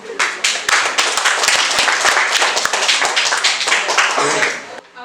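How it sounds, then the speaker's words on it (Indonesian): A classroom group applauds together, a burst of many hands clapping quickly and steadily for several seconds before it tapers off and stops. "berarti kita berikan aplaus dulu"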